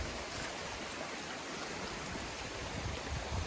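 Creek water flowing fast after Hurricane Helene, where the creek has cut a new channel beside its original bed, heard as a continuous broad rushing wash, steady and somewhat distant, with no talk.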